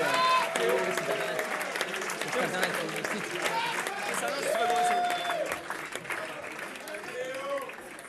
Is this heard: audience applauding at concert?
yes